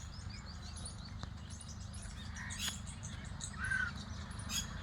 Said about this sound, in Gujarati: આ બધા પક્ષીઓ અહીંયા આવે છે તલાઈના પાળે સવારના પોરમાં